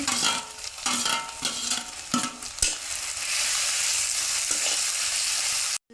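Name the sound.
frying ginger garlic paste in a pan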